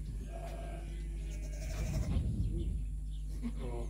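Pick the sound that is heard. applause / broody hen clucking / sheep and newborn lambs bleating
sheep and newborn lambs bleating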